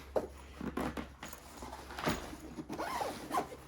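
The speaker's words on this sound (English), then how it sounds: "Let's test out the zipper." A zipper on a fabric under-bed storage bag pulled back and forth several times in quick, close strokes, with short pauses between pulls.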